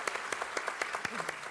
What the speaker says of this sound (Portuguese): eu queria pedir salva de palmas para eles